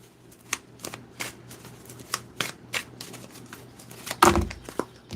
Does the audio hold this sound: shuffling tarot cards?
yes